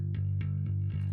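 Electric bass track played back in Studio One: a short run of deep, sustained plucked bass notes with a slightly distorted edge, steady and up front with no talk.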